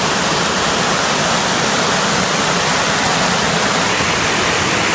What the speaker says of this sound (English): the spillway then drains down here into the woods